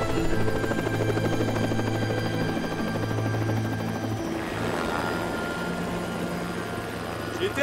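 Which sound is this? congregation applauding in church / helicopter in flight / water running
helicopter in flight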